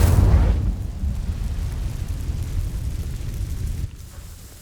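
In Hogwarts Legacy, an Incendio fire spell ignites dry vines with a loud, close burst that settles into a sustained low roaring rumble and cuts off near the end.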